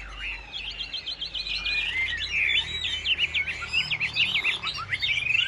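A yellow-breasted tam hoang songbird, a caged pet bird, sings a continuous, bright run of rapid chirps and warbling trills, close and clear, with no talk.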